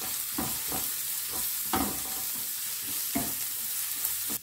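Curry leaves and turmeric fry in hot oil for a banana flower curry, giving a constant bright sizzle with periodic soft stirring scrapes, close and fairly loud, no talking.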